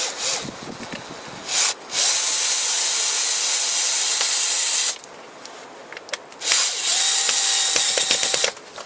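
Screw being tightened on a Toyota Corolla VVT-i engine with a cold-starting fault: loud, rasping tool bursts, a short one and then two long sustained runs of about three seconds each, separated by quieter pauses.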